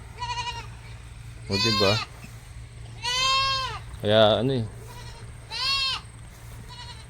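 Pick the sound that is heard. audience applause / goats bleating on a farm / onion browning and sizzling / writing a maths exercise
goats bleating on a farm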